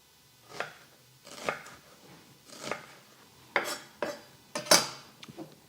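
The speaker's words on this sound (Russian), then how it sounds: "Лук нарежем просто перьями, полукольцами, кому как удобно" A knife slices an onion on a cutting board, several sharp, evenly spaced cuts with faint clinks, close and clear in a quiet room.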